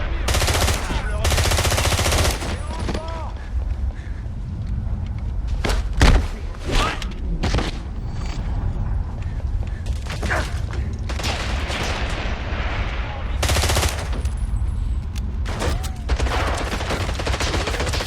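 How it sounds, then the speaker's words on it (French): Guards open fire in the 007 Bloodstone video game, with bursts of loud automatic gunfire mixed with heavy thuds and booms, sustained and intense throughout. "Tirez à vue!"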